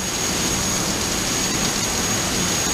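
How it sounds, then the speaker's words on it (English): A simulated airliner's number one jet engine in FSX runs at start with a loud, steady broadband roar and a thin high whine, close and constant throughout. "We have a good start of the number one engine."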